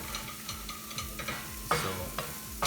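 Akuri masala with turmeric stirred in a pan over high heat, giving soft scraping stirs and a light sizzle, with a few sharper clatters of the spoon near the end.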